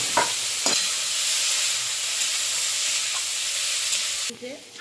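Boiled vegetables hit hot oil in a wok and are stirred for flattened-rice pulao, giving a loud, continuous sizzle with a few scraping spoon strokes near the start and a brief clatter at the end.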